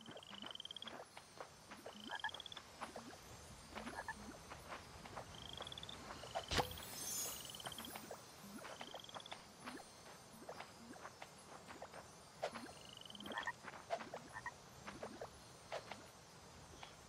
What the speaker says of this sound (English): I heard a frog.